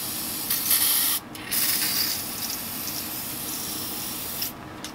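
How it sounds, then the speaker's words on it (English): Aerosol lube sprayed into the engine of a 1960 John Deere 1010 backhoe: a steady, close hissing spray running almost the whole clip, broken by a couple of brief pauses. "We'll spray some lube in here."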